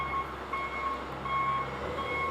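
Steady electronic reversing beeps from an ODOT road-salt truck repeat in a regular rhythm over a low engine rumble, moderately loud and close by, at night in Westerville, Ohio before winter weather.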